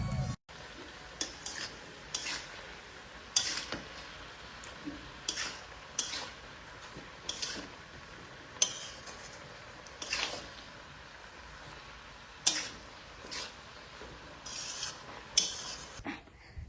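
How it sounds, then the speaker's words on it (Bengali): Spices being stirred through oil in a pan with turmeric and salt before cauliflower goes in, a soft steady sizzle punctuated by repeated scrapes and clinks of a spatula at a roughly regular pace, close and without talk. "তারপর এটার মধ্যে হলুদ, লবণ অ্যাড করে দেবো। অ্যাড করে নিয়ে ভাজাভাজি করবো।"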